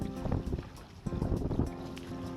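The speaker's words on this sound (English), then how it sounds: "here comes some more gusts here." Gusty wind buffets the microphone aboard a Sardine 23 sailboat on San Francisco Bay, with rushing low rumble swelling and easing in uneven bursts.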